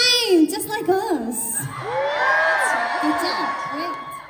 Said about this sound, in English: you were giving us such great shouts last year, but I think it's even louder this year